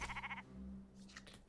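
A sheep in a video game gives a single short, quavering bleat at the start, followed by quiet game background and faint higher chirps.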